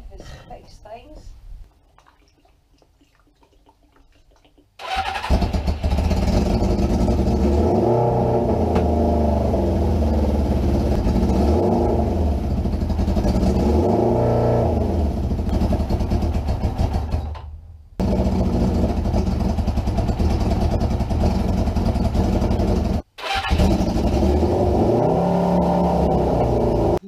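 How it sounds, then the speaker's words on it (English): After a quiet stretch, a Suzuki GS550 rat bike motorcycle under restoration starts up and runs loud and near, its engine revving and rising in waves with two brief drop-outs. "Okay folks, it's time to start the bike again."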